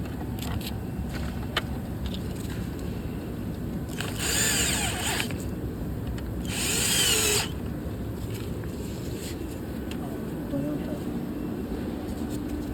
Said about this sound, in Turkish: Şimdi buralardan alyan vidalarımız ile arkadaki deliklerinden hepsini sıkıştıracağız.